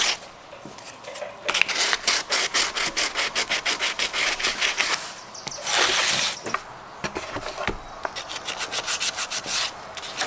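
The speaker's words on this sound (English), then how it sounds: "Okay, just a quick sand. Smooth this stuff out a little bit." Hand sanding on a fiberglass mold, a quick smoothing pass made of rapid rhythmic back-and-forth rubbing strokes heard close up with no talk, pausing briefly between bursts.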